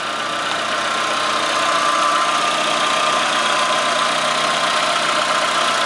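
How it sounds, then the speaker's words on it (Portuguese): A 1999 Renault Megane 1.6 8v engine idling smoothly, a steady, even hum with no gaps or surges, recorded close up and fairly loud. "Pode ver que a marcha lenta tá bem sereninha."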